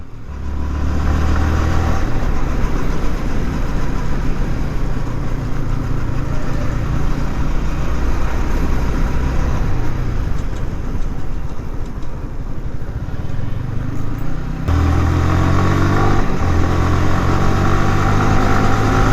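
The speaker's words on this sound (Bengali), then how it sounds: "আর ওয়ান ফাইভের সাউন্ড হচ্ছে স্মুথ সাউন্ড মনে করেন হাই এও সুন্দর একটা সাউন্ড দেয়" A Yamaha R15 v3 motorcycle engine running, loud and close, with a sustained smooth drone that holds fairly steady for nearly twenty seconds and shifts slightly in pitch partway through, with no talk.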